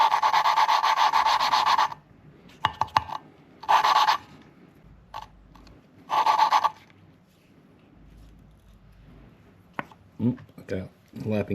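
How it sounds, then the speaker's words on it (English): A valve lapping tool twists a valve against its seat with lapping compound on a 2010 Subaru Forester cylinder head, giving short, gritty rubbing bursts separated by pauses and faint handling noises. "we're going to take our valve lapping tool, and we're going to stick it to the top of this"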